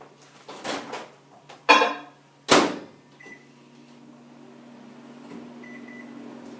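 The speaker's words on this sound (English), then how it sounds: "So let's do 90 seconds in the microwave." A few clatters and clunks of a door and dish, then a low steady hum of a microwave oven running, with soft beeps.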